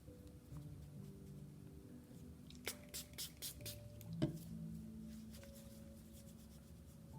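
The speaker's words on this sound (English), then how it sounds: "What you don't want to do is spray a lot of water on it." A spray bottle mists water onto a marker drawing on a clay slab in a handful of quick, soft bursts, close and fairly quiet, then falls silent.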